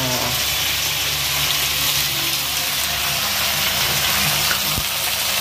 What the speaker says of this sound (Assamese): হৈ গ'ল আমাৰ ভজা মাংস